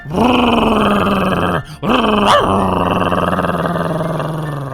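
Dogs fighting in the Minecraft video game, heard as a sustained, loud, close growl with harmonic snarling that breaks briefly midway before resuming.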